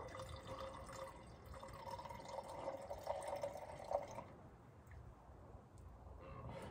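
Diesel fuel trickles from the inline filter of a 2002 7.3 Powerstroke into a glass, a faint, quiet pouring and dripping that runs steadily and then tapers off partway through.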